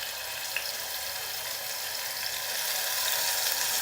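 Green chili sizzling in hot oil for tempering in a buttermilk besan kadhi, a steady bright crackling hiss that holds constant and swells slightly, heard alone without talk.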